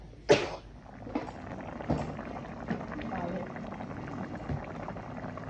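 Water coming to a boil in a pot of Thai jungle curry with catfish and white galangal (krachai), a steady low bubbling with a few louder knocks and clatters near the start, and someone speaking over it.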